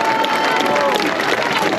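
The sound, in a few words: crowd applause at rally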